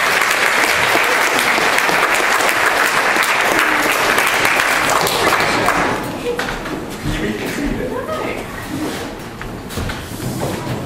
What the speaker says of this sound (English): Round of applause for Mrs. Parker.